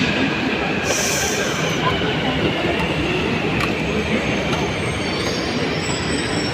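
A Hyderabad metro train sits at a station platform, giving off a steady, loud rumble and hum with faint wheel squeal above it and no clear voices over the continuous wash.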